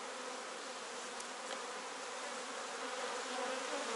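A dense, steady drone of honey bees buzzing on a hive frame during queen-cell inspection, loud and continuous throughout with no speech.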